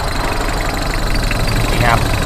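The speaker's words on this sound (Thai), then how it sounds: "มาดูกำลังเครื่องยนต์นะฮะนะกำลังเครื่องยนต์" A high-mileage 1997 Mitsubishi Strada pickup engine runs at a steady idle, a loud, close, even rumble with a voice talking over it.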